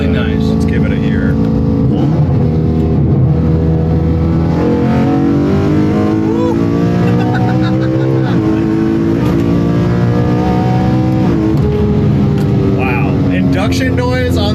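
An engine-swapped street car with a BMW S65 V8 revs loudly and close, its harmonic engine tone climbing and falling through several throttle sweeps, with a voice talking over it.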